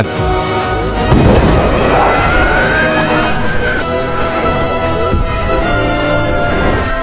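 An artillery shell blast in an animated pirate film, a loud booming explosion with a rising whistle and roaring rumble that carries on under a swelling dramatic score.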